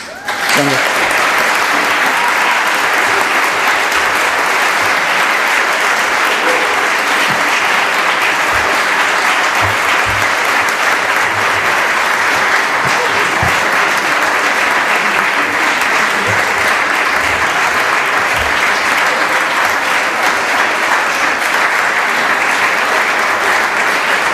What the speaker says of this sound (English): I just wanted to also ask for a round of applause for the second place